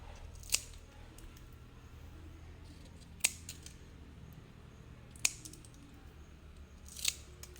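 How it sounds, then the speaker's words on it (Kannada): Scissors snip away dry, withered leaves from a household plant during home cleaning, four sharp isolated cuts spaced about two seconds apart over a low steady background hum, close and clear with no talking. "ಈ ಗಿಡದ್ದು ವೇಸ್ಟೇಜ್ನೆಲ್ಲ, ಒಣಗಿರೋದೆಲ್ಲ ಕಟ್ ಮಾಡಿ"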